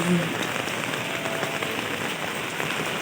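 Steady rain patters down on a surface, a dense, even hiss of drops with no letup throughout.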